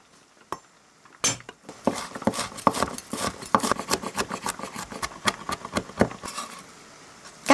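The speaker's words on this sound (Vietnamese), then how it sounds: "Sau đó mình đập dập và băm nhuyễn hành tỏi." Shallots and garlic are smashed and then finely minced with a knife on a board, a series of sharp close chopping knocks coming in quick, uneven bursts.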